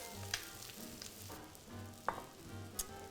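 Crab cakes frying in a pan on their second side, a steady close sizzle and crackle with occasional small pops, no talking.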